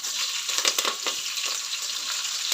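Green chillies hit hot oil for tempering, a bright crackling sizzle with sharp pops near the start that settles into a quieter steady hiss.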